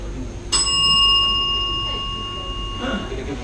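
Hand bell rung once as a 30-second warning during a live debate, a bright metallic strike with long sustained ringing overtones that slowly decay, heard alone without talk.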